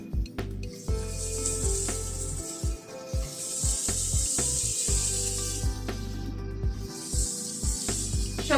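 Chopped tomato, salt and eggplant stirred in a hot pan, a steady sizzle with scraping and rubbing strokes of a utensil, close and continuous with brief pauses between stirs.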